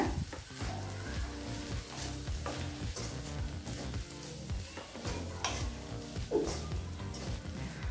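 Carrot egg rice with ghee is stirred in a pan, with continuous gentle sizzling under repeated scraping and tapping strokes of a spoon, close and moderately quiet, with no voices.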